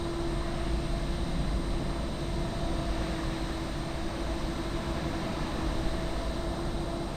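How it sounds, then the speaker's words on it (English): Steady engine drone of an American airliner taxiing out, heard from an E175 cockpit in a flight simulator. The tone is a constant, even hum with a faint high whine and no talking. "The American taxiing out."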